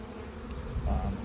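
Honeybees in an open hive colony hum in a steady, close, moderate drone for about a second, with no voices.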